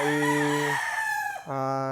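A rooster crows loudly and close by, one long call, then a second crow starts right after a brief break.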